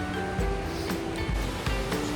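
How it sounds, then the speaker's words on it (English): Waterfall in Scotland, a steady, continuous rush of falling water that fills the background at a fairly loud, even level, with faint tonal hum and brief low thumps mixed in. "That's the waterfall which we are seeing"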